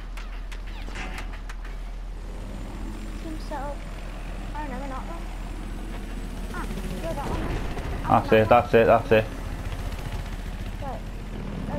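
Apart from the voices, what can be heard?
helicopter flying in the video game Battlefield 4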